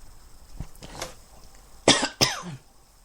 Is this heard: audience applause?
no